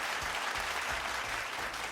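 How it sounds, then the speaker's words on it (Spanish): Warm applause from a community festival audience greeting the second-place winner of a pageant, many hands clapping steadily at moderate volume with a faint murmur of crowd beneath. "Un fuerte aplauso para el segundo lugar."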